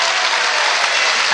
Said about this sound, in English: Give yourselves a burst of applause for that.